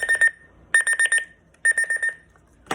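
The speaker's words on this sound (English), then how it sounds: "I pushed the wrong button and the fucking alarm starts going off on that." An emergency alarm on a device, set off by a wrong button press, beeps in three rapid bursts of repeated high electronic tones separated by short pauses, loud and close with no talking.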